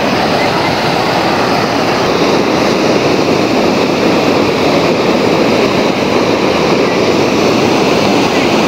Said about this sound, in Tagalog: Ganda ng agos